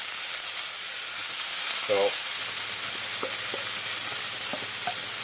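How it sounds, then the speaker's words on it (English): Leek sautéing in a pan during cooking, a steady broadband sizzle throughout with occasional stirring clicks and a brief spoken word. "you're going to let this saute for a good 3 to 5 minutes"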